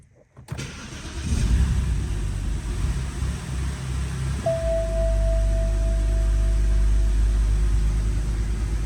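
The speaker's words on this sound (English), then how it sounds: "let's start the car now" A car engine with a recently repaired idle problem cranks briefly, catches, and settles into a steady, close idle with a low rumble and a faint whine.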